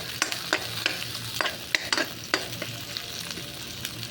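Squid sizzles in a frying pan for adobong pusit, with a steady crackle and irregular sharp clinks of stirring close by.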